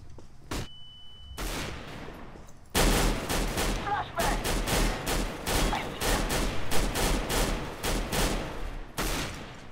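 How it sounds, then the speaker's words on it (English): Flashbang thrown in the CS:GO Wildfire campaign, amid a firefight: a sharp bang, a brief high tone, then a long run of loud, rapid gunshots and impacts with one more shot near the end. "I'm throwing a flashbang."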